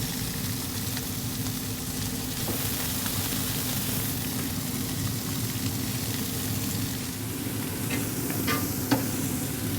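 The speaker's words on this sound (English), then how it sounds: "I have some really thinly sliced onion that I'm going to fry up" Thinly sliced onion frying on a Yoder YS640s pellet grill griddle for a cheeseburger, a steady close sizzle and crackle with a low hum underneath, occasional faint clinks near the end.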